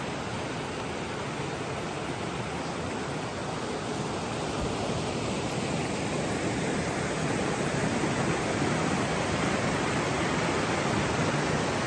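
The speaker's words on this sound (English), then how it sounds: "This is Cummers Creek Falls." Cummers Creek Falls on the Appalachian Trail roars as a steady, loud rush of falling water, constant and broadband with no voices over it.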